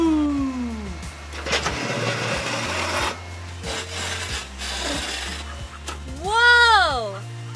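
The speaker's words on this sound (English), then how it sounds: "That's the sound of the claw scraping the cement." The claw of a grapple garbage truck scraping across cement, a rough rasping drag under stretches of voice and tonal sounds, fairly close and loud.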